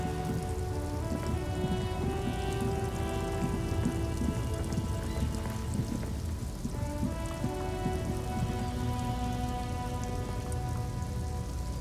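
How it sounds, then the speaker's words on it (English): Steady rain falls in the video game Disco Elysium, a constant close hiss of drops over a faint low background hum, unbroken and without any voices. "Stuck in the rain in a traffic jam"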